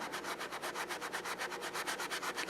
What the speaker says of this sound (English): I'm going to use some magic eraser here, which is basically like a fine grit sandpaper